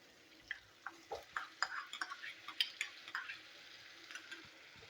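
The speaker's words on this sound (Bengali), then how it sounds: "টমেটোর পেস্ট আমি কষিয়ে নেবো।" Tomato paste being stirred and sautéed in a pan for a spiced kakrol (spiny gourd) dish, with a series of soft, close scraping and tapping stir strokes over a faint sizzle, no talking.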